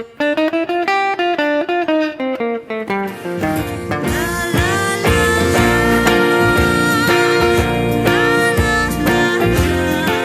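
A guitar plays a quick jazzy phrase of single notes, then fuller chords join with bass, ringing out clearly and steadily.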